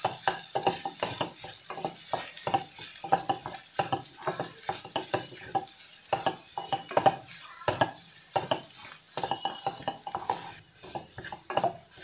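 Potato and onion samosa filling is stirred in a pan with a spoon, giving close, uneven scraping and clinking strokes in quick bursts over a faint sizzle, without voices.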